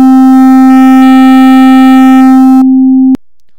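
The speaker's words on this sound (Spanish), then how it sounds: "Lentamente iré subiendo el distorsionador 1 para que escuchen la diferencia." A steady synthesizer tone built in Synthmaker, loud and buzzy with rich harmonics, its distortion effect raised gradually before the sound thins to a plain tone and abruptly stops.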